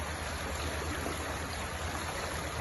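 Flowing water in a current runs with a soft, steady rushing wash, faint and continuous with a low rumble underneath and no voices.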